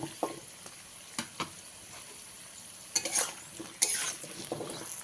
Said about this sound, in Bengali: কুমড়োটা দিয়ে গ্যাসের ফ্লেমটা মিডিয়ামে রেখে চার পাঁচ মিনিট ভালো করে ভেজে নেব